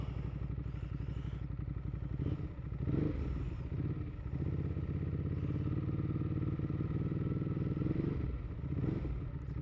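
A Ducati Hypermotard 821 motorcycle engine starts and settles into a loud, steady, rumbling idle with a mechanical clatter, heard up close for several seconds without speech.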